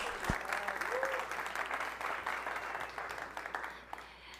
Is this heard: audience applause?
yes